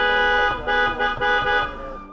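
Car horns at a busy intersection blare in a sustained, tonal honk, with several pulsing blasts layered over one another for a couple of seconds, loud and close with no talking.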